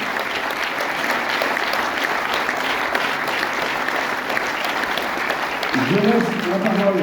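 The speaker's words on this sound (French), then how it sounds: "Vous pouvez applaudir, s'il vous plaît, l'équipe de Passion à Saint-Pierre-et-Miquelon." A cinema audience applauds the film team of Passion à Saint-Pierre-et-Miquelon: dense, sustained clapping from a full room that holds steady throughout, with a voice starting to speak over it near the end.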